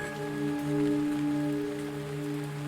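Steady rain falling in the point-and-click adventure game Gemini Rue, a constant wash of drops under a low humming background tone, even and unbroken with no voices.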